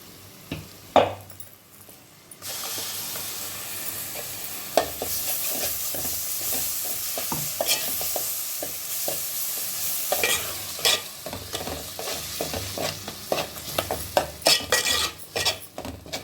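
Ground spice paste for a fish curry sizzles steadily in a hot pan, with repeated scraping and clinking of a spoon stirring it close up, after a brief quieter start.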